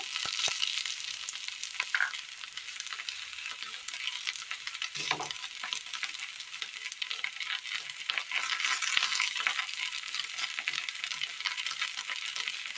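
A crushed coconut mixture with mustard seeds and curry leaves stir-fries in a pan, giving a steady, close hiss of sizzling with faint stirring scrapes throughout and no voices.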